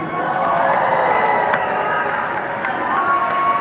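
A large crowd at a Donald Trump rally in South Carolina cheers and roars steadily, loud and sustained, with a few brief sharp accents, and no clear talk over it.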